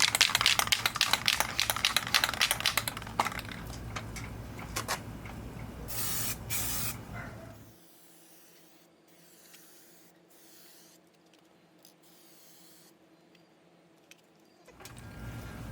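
A few short bursts of aerosol trim restorer spray onto the trim of a Toyota Tacoma, close and hissing, then quiet handling of the can and faint rustles, with no talk.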